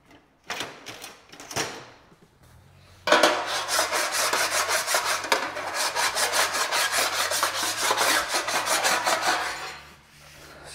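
A hand file rasps across a car bumper panel during panel beating, first in a few short separate strokes, then in a long run of quick, evenly spaced strokes heard close up before it trails off.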